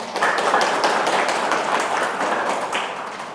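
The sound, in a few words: audience applause after a lecture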